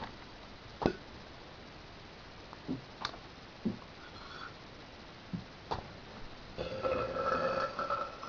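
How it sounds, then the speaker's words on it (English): A child gives several short, separate burps spaced a couple of seconds apart over quiet room noise, followed by a longer, noisier stretch near the end. "Try to drink it alone and try to burp."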